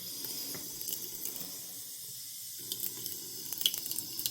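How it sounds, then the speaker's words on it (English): Tap water runs steadily into a container, a soft broadband splashing hiss with a few small clinks, fairly quiet and close, no talking. "So now I'm going to fill this back up with water."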